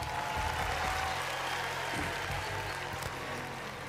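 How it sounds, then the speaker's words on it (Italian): Soft applause from a small crowd in the Trader Life Simulator 2 video game, a quiet, steady patter of clapping that tapers slightly toward the end. "Ah, gli applausi."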